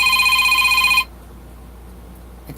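Telephone ringing in a quiet room, a loud trilling electronic ring lasting about a second and then cutting off into near silence.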